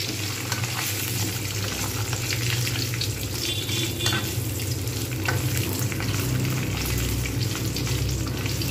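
Papad frying in plenty of hot oil in a pan, a steady, even sizzle and crackle running continuously with no voices.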